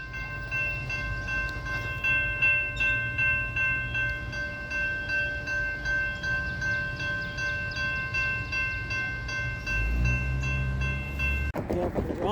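A CSX freight train carrying hazmat sounds a long, steady multi-tone horn chord for about eleven seconds over a rumbling engine, then the horn cuts off abruptly.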